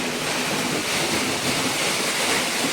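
A sprinkler irrigation system sprays water across a summer millet (bajra) field, fed by a solar pump, making a loud, steady, unbroken hiss close by.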